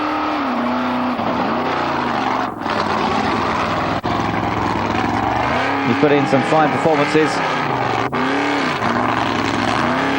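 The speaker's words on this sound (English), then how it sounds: "It starts to roll, then they spin again as he accelerates." A rally car accelerates hard with its wheels spinning, the engine roaring loud and rising and falling as traction breaks and returns, heard under someone commentator talking.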